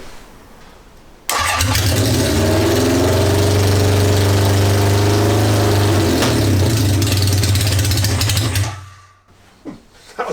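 A Honda CB750 motorcycle engine, cold and being worked on for an oil line leak, cranks and catches after a second of quiet, then runs loud and steady with a low throbbing idle for about seven seconds before cutting out.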